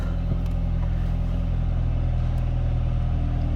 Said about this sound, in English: I started up the vehicle.